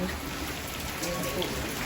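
Light rain patters steadily into a roofless kitchen, a soft, even hiss of drops close by, faint in level, with a person speaking beneath it.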